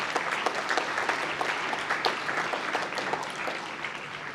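A crowd applauds graduates at a university presentation ceremony, steady dense clapping from many hands with occasional sharper individual claps standing out.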